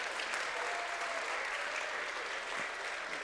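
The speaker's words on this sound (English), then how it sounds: "Good, a round of applause." Dense, steady applause from a large audience at a crypto market talk, a broad wash of clapping that fills the whole stretch without letting up.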